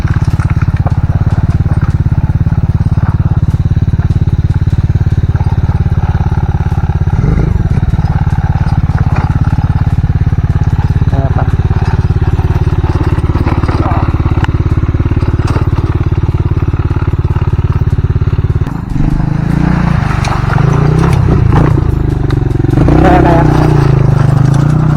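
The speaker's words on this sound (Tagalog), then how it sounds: "Try namin ipasok yung motor." A motorcycle on a rough jungle trail in the Philippines, its engine droning loud and close throughout with clattering and thumps over uneven ground, rising in revs near the end.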